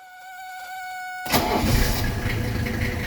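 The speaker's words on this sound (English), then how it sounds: "now it's safe to fire up the engine" A high electronic whine hums briefly, then a 1985 Mercedes 300CD engine cranks and catches after an oil change, settling into a steady, loud idle close by.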